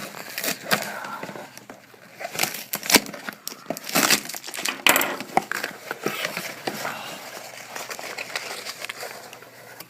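Cardboard and plastic crinkle and tear as a delivered package containing a capacitor is cut open and packing peanuts are rustled, a quiet, close, irregular series of crunches and rustles.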